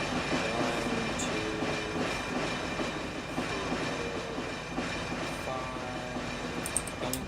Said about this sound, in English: Just wait until the whole train clears the switch.